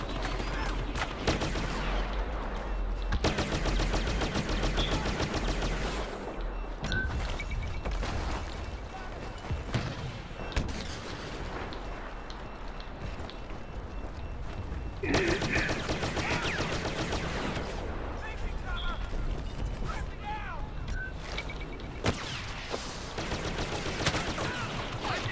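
Rapid blaster gunfire from the Star Wars Battlefront video game, dense volleys of shots and explosive bursts continuing loudly for the whole stretch with brief clatter and occasional talk beneath.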